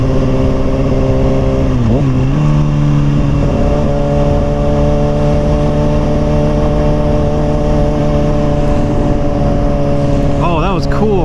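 A Ford Mustang fitted with a Bassani exhaust idles with a loud, deep rumble, blipping the throttle in quick revs early on and again near the end.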